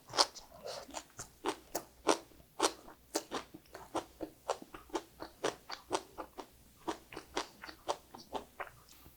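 Crisp, crunchy chewing of blanched spinach heard up close, with steady bites and crackly crunches repeating in an uneven rhythm and no talking.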